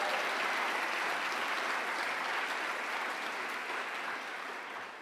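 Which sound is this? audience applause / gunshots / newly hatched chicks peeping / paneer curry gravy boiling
audience applause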